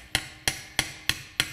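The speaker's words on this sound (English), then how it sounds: "So I'm going to just give it a little tap with this hammer here." Five evenly spaced, sharp metallic taps from a small hammer knocking a part into a Stihl HL 100 hedge trimmer, each a crisp strike with a short ring, close and fairly quiet.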